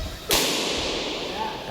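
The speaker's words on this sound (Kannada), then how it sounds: "ಯಾರೋ ಪಟಾಕಿ ಹೊಡಿತಿರೋದು." A firecracker bursts once with a sharp, loud crack at an outdoor celebration where balloons are being blown up, followed by a long, fading noisy tail and faint background voices.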